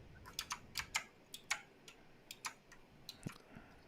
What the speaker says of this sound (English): Steve's typing away.